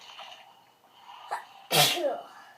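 A single loud, sharp sneeze bursts out near the end, preceded by a brief inhaling catch and some quiet murmuring, in an indoor toy-play setting.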